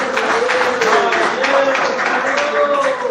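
A church congregation claps together in a dense, continuous wash of applause, with singing or music tones rising and falling underneath.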